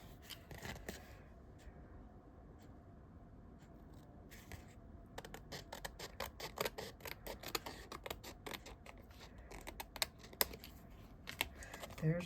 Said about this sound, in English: Just use your scissors and trim it off.